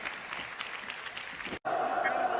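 Broad wash of clapping from a TV studio audience during a live broadcast, steady and moderately loud, briefly cutting out before resuming with a talking voice over it.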